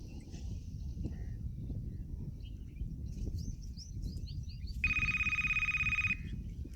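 A telephone ringtone sounds once as a loud, bright electronic tone lasting about a second, cutting through a quiet outdoor background with faint bird chirps.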